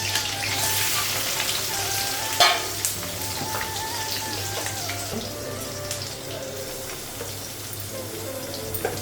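Potatoes frying in hot oil with five-spice, green chilli and cardamom, a steady close sizzle with occasional stirring clatter and no talking.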